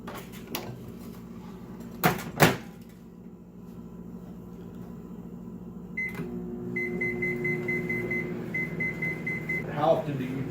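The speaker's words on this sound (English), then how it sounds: "Now we're going to take this and set it in the microwave" A microwave oven is loaded, with two sharp clunks of the door, then beeps as it is set and a steady hum as it starts running, with a voice talking under the hum.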